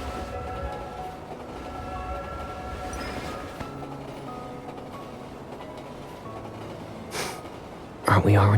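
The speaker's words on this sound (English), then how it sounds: "Hold on tight. The train is about to leave." A train rumbles steadily as it departs in the Love and Deepspace video game, with soft mechanical clatter and a brief whistle-like tone, ending in a loud sudden burst.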